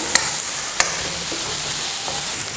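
Turmeric and spices stirred together in a hot pan for a dosa preparation, with a loud, steady hiss of sizzling and two sharp spoon taps against the pan near the start, heard up close.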